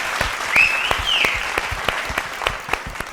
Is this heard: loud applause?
yes